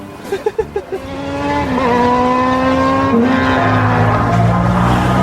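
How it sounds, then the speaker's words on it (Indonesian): A big Kawasaki motorcycle roars past on a street in Manado. A few sharp revving blips give way to a loud, sustained engine drone that climbs in pitch as it passes close by. "Motor, tadi motor besar yang udah lewat."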